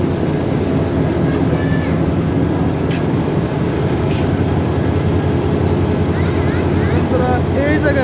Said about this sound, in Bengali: এই যে আসতেছে আমাদের ইঞ্জিন, আসেন আমরা যাই।